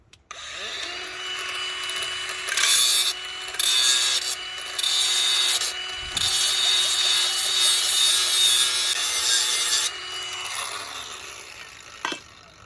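Hand file rasping across the end of a steel rail point blade, bursts of rough scraping strokes of varying length, close and loud, with short pauses between passes and a final brief clatter.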